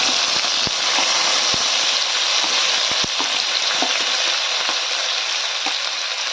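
Chopped onion, cumin and mustard seeds fry in hot oil, producing a loud, dense, continuous sizzle right up close. Scattered sharp pops and crackles of bursting seeds punctuate it throughout.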